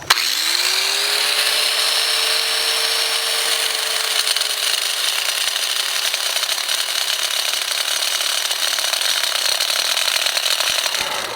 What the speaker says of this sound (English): The 4-inch cutoff, or the 4-inch grinder I had with a cutoff wheel